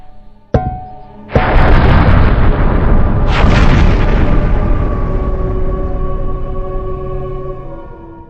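A fiery explosion as a dwarf engineer strikes a contraption with a hammer: a sharp crack, then a loud roaring blast that swells again midway and slowly fades into a long rumble.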